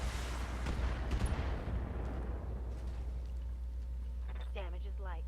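Mech weapons in the BattleTech strategy game pound defense turrets, giving a dense run of booming, crackling impacts in the first couple of seconds that tail off into a low rumble, with brief electronic chirps near the end.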